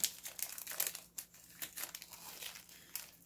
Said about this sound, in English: And there's lots of crinkling.